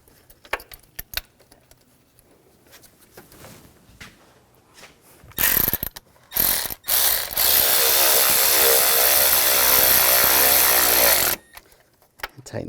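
Bolts are tightened on the power steering reservoir of a 2000-2006 BMW X5 3.0L L6, with scattered clicks and clanks followed by bursts of loud, sustained whirring from a power ratchet, with someone talking during the work.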